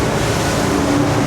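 An E-Motion 36 motorboat runs fast over waves at about 30 knots, a dense, loud rush of hull slap, water spray and wind noise with a steady roar underneath.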